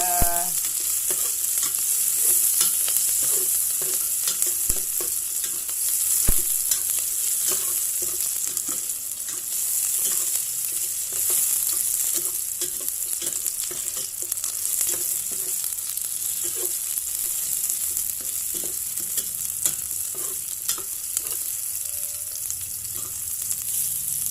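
Food is sautéed in a hot pan with a continuous loud sizzle and frequent stirring clicks and scrapes throughout, close up and without talk.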